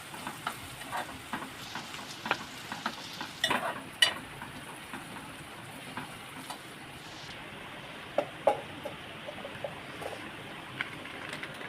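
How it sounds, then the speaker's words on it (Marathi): Bombay duck fish, coated in flour and cornflour, fry in hot oil, giving a soft continuous sizzle studded with irregular pops and crackles, fairly quiet and close. "ह्याला मी आता फ्राय करायला घेते"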